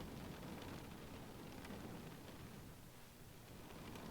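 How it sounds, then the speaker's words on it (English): Rain in The Stanley Parable, a steady broadband wash of falling water with a faint low rumble, quiet and unbroken, with no voices. "It's raining?"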